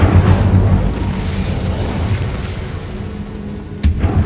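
A Bombarda explosion spell goes off in the video game Hogwarts Legacy: a heavy, sustained low boom and rumble, with a sharp burst near the end.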